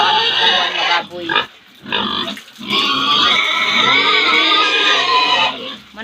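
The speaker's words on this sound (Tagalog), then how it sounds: "Doon ang baboy." Pigs at a backyard pen grunting and oinking loudly and close by, in a near-continuous run of squealing grunts with two short pauses.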